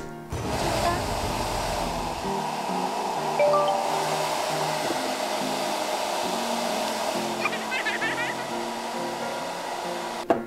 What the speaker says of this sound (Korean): 드라이기로 살짝.